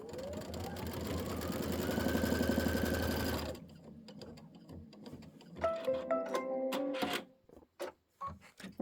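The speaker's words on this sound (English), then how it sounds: "Now it's going to do your next trim line." Embroidery sewing machine stitching a straight trim line on a quilting project, a loud steady mechanical whir for several seconds, then stopping, followed by quieter clicks, rustles and short bursts of handling.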